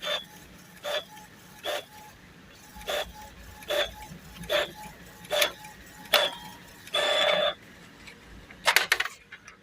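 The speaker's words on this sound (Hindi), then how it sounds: "ये प्रिंट की कमांड है, मैंने इसको फिर प्रिंट दिया है।" Epson printer running a print job with a print head movement error, a series of evenly spaced mechanical clicks and whirs, one longer buzzing run, then a rapid rattle near the end, close, no talking.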